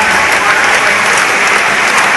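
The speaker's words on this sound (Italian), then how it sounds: "fatevi un applauso per organizzare" Audience applause at the sixth Sicilian juggling convention, a dense, loud wash of many hands clapping continuously and evenly throughout, close and sustained without pause.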